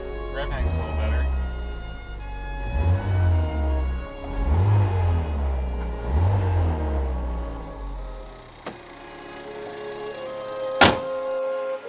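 An ST car with a limited-slip differential revs up several times in a row, each rise-and-fall clear and close. A couple of sharp clunks follow as the revving ends.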